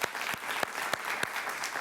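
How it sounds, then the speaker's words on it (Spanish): A television studio audience applauds for the host's mother, giving steady, moderately loud clapping throughout, with a few sharper individual claps standing out. "Un aplauso para mamá, por favor."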